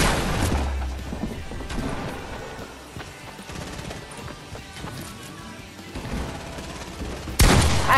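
Gunfire from two teams fighting in Fortnite, dense overlapping bursts and crashes with a loud burst near the end, mixed with busy game noise.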